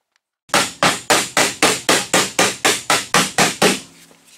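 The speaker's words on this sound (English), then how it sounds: "Think I got it tapped down far enough." A hammer taps down a dented body panel on an 87 Chevy Monte Carlo SS, striking about a dozen loud, evenly spaced metallic blows close by, each ringing briefly, with no voices.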